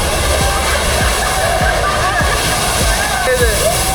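Loud, steady rush of fast-flowing cold waterfall water pouring down in the Himalayas on the Badrinath–Kedarnath route during monsoon, a dense continuous roar with splashing throughout.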